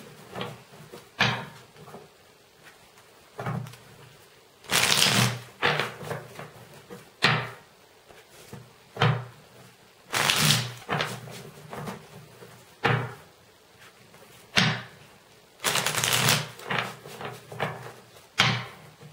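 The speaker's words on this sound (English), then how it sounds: "I haven't used this deck in a while, so I'm trying to shuffle a lot." Repeated riffling bursts of cards being shuffled, several rapid shuffles with short pauses between, close and fairly loud with no talking.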